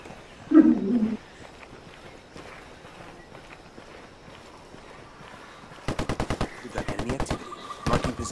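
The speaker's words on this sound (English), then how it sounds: "Taking fire." Gunfire in Ghost Recon Wildlands PvP: after a quiet stretch with a brief low growl early on, rapid automatic bursts rattle out in quick clusters toward the end, fairly close and loud.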